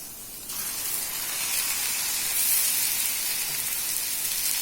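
Onions and chana dal fry in a pan with a steady, loud hiss and sizzle that swells slightly midway and carries on without pause.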